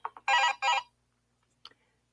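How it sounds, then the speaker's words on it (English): A phone ringing as a reminder alarm, a short burst of bright electronic ring tones followed by quiet and a brief faint beep. "that's the phone to remind me to click the live button"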